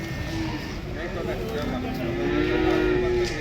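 Large water buffalo low with long, deep moos amid a busy outdoor cattle market crowd of talking voices.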